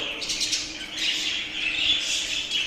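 Jumbo show budgerigars squawk continuously at close range, a dense, shrill, overlapping chatter from a group of birds with no speech.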